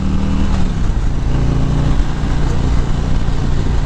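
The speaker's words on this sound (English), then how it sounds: "And a mean sounding exhaust." Exhaust rumble from a 2019 Harley-Davidson CVO Road Glide with its 117 cubic inch M8 engine, a deep, steady, loud drone heard up close with no pause.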